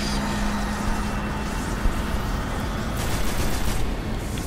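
A new gun firing in the video game Destiny, sustained dense rapid fire with a roaring, rumbling wash of shots that runs continuously throughout without pauses.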